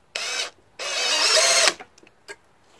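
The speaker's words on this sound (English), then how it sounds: "20 volt lithium ion battery. Cordless electric drill." A SCANS 20V lithium-ion cordless electric drill whirs in two close bursts, a short spin then a longer one, followed by faint clicks and a small knock, with no talking.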